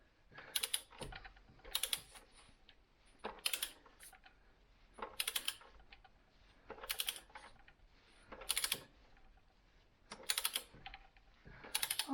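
A wrench ratchets in short bursts of clicking on a bolt of a Kipor 6700TA diesel generator, with roughly eight close, quiet clusters spaced by pauses and no speech.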